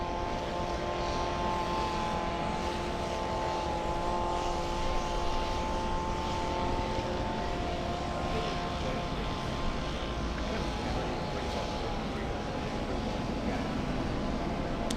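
Steady, continuous drone of an airliner's engines at LAX runs unbroken for the whole stretch. It sounds moderately loud and a little distant, with no speech over it.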